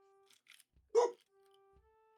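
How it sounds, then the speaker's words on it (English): A single sharp dog bark rings out indoors, loud and close, followed by near silence. "Your dog triggered my dog."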